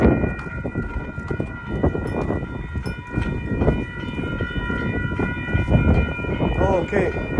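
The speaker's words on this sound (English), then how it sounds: "Oh, there's a train coming." A train on the Lakeshore East line near Rouge Hill passes close by on Christmas Day, a loud continuous rail rumble with steady tonal horn or whistle lines above it and voices faintly underneath.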